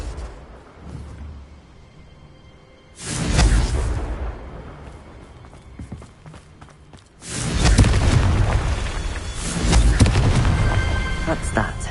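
Two heavy booming blasts from the Confringo explosion spell in the video game Hogwarts Legacy, each a loud, rumbling burst that swells and slowly decays, separated by a quieter stretch.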